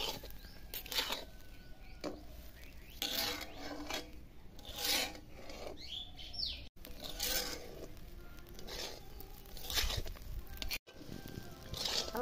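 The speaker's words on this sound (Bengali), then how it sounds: "নাড়ি চাড়ি ভালো করে ভাজবো, তবেই ভাত ভালো হবে" Rice for basanti polao is stirred and fried in a pan, giving soft repeated scraping and rasping strokes of a spatula, quiet and intermittent with short gaps between stirs.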